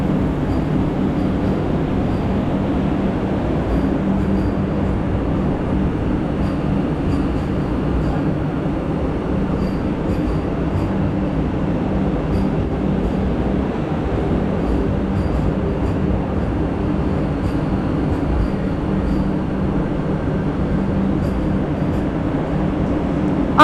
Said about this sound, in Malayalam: വന്ദേ ഭാരത് ട്രെയിൻ അതാ വന്നുകൊണ്ടിരുന്നു.